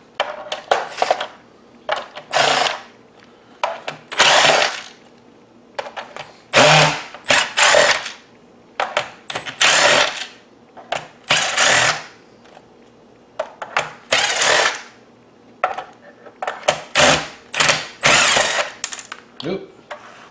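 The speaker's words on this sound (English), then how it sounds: "So let me get the drill." A power drill backs Phillips screws out of an ESDDI PLV-R360 LED ring light during a teardown, giving short, repeated whirring bursts separated by pauses, with some nearby talk between them.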